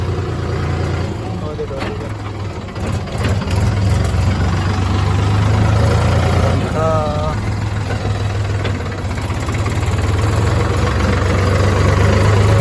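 A tractor engine idles and chugs low and steady while hauling paddy to a cooperative society, a heavy rumble running throughout with someone talking over it.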